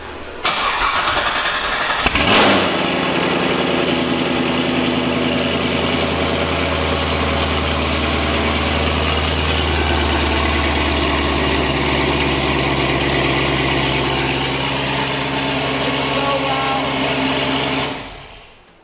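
A Corvette engine cranks by remote start and fires up with a loud roar, then settles into a deep, steady rumbling idle before cutting off at the end.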